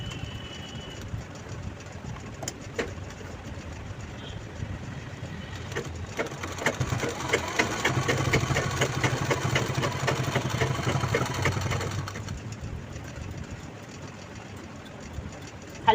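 A sewing machine runs steadily for about six seconds, stitching a folded fabric strip onto a shopping bag made from a reused blouse piece, with a quieter mechanical hum before and after.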